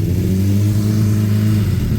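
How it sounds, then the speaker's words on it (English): Suzuki Bandit motorcycle with a Blue Flame duo exhaust revving hard, a loud, close, continuous throaty engine roar held steady for about two seconds, no voices. "I've always said the Suzuki Bandit with the blue flame duo exhaust is one of the best sounding, look at that, one of the best sounding bikes"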